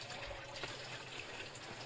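Water runs steadily from a household tap, a continuous close rushing and splashing with no breaks and no voices.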